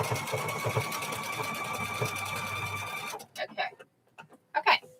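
Sewing machine stitching denim quilt squares, a fast even whirring needle rhythm running steadily up close for about three seconds, then stopping, leaving scattered clicks and handling noises.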